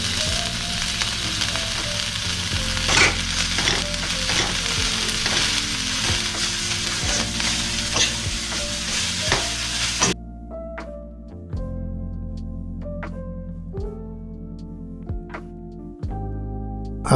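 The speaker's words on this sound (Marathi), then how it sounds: "छान वर खाली हलवून घेतोय" A sambar wadi filling mixture frying in a pan, a dense loud sizzle with close stirring scrapes that suddenly drops to quieter, sparse clinks and stirring toward the end, with no talking.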